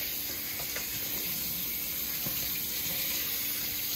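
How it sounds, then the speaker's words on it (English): Cold tap water runs over raw ribs in a kitchen sink, a steady faint hiss with a few soft splashes and knocks as the meat is handled. "So first, I'm just gonna wash it off with some cold water to begin with."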